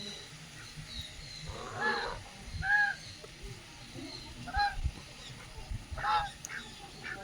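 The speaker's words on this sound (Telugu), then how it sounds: "బాతులు" Ducks at an exotic bird park, a few faint quacks and calls scattered over a murky background of low rumble and distant ambient noise.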